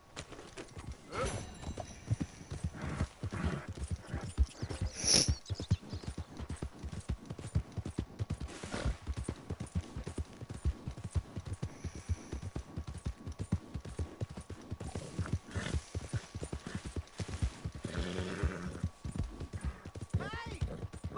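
Steady rhythmic clip-clop of horse hooves in Red Dead Redemption 2, with a whinny partway through and brief sounds of voices.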